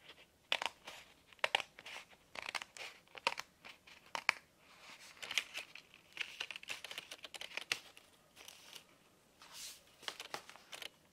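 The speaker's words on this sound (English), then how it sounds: "my wife is cutting now the card with the insert, the bond paper inside." Crisp snips and rustles of card and bond paper being cut for a handmade greeting card come in quick, irregular bursts, close and fairly quiet, with no talking.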